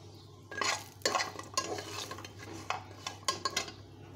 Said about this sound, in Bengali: এখন আমি বড়িগুলো ভেজে নেব